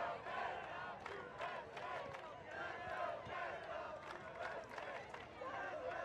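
Fans at the USA vs Canada Masters women's final of the 2012 World Ultimate Championships, an ultimate frisbee match, keep up a steady crowd roar with scattered shouts and cheers, and voices are mixed into it.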